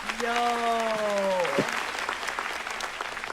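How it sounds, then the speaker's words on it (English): Keynote audience applause from a watch party stream of NVIDIA GTC Taipei, steady broadband clapping throughout, with a voice talking over the first half before it fades back under the applause. "A round of applause for math."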